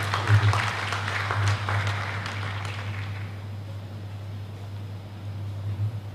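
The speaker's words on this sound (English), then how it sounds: "Please, another round of applause for him" An audience applauds a governor at a book launch event in Akwa Ibom, steady clapping for about three seconds that fades into softer crowd noise over a low electrical hum.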